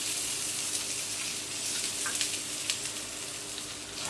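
Potatoes sizzle steadily in oil on a hot plancha, a dense, even hiss of frying that holds without break from start to finish, close and fairly loud.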